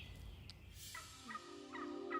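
A wild turkey gobbles in an Ontario woodland, a faint rapid rattling call heard at a distance in quiet surroundings with low background hum.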